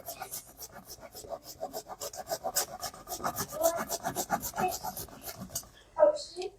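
Fresh ginger is rasped by hand against a grater in quick, uneven scraping strokes, close up and fairly quiet, with a brief clatter near the end.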